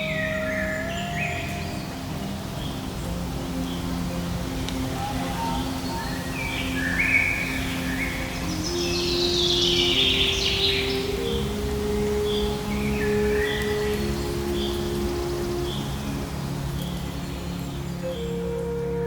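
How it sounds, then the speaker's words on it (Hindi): Birds call faintly in a sal forest of Jim Corbett National Park, with scattered soft chirps and one brief busier burst of calls midway over a steady, hissy ambient background. "यहां पक्षियों की आवाज भी"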